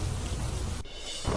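Scattered rain under cloudy skies in Valsad district, Gujarat, a close, steady hiss of falling drops that cuts abruptly midway and resumes briefly, with no voices.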